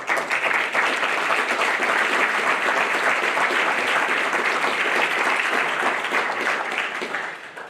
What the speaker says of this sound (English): So a lot of applause needs to be.